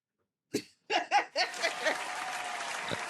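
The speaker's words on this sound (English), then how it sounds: "Clap for that." A few scattered claps and whoops build into a short burst of applause that settles into steady, moderate clapping.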